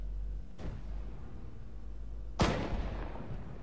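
Two distant gunshots in Arma 3, the second sharper and louder with a brief echoing tail, set against a steady low rumble of background battle ambience.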